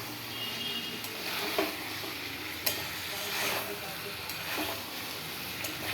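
Capsicum pieces sizzling in a pan, a steady close hiss of frying with occasional scrapes and stirring clatters, no talk.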